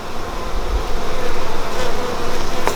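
Loud, dense buzzing of many honeybees swarming close around an open hive during an inspection, a continuous droning hum without speech.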